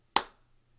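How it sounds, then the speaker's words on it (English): A single sharp hand clap in front of a Shure SM7B microphone, one close crisp crack with a short decaying tail, then quiet with a faint low hum. "We're going to clap in front of it."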